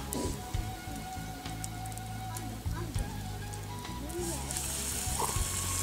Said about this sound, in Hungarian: És már sül is.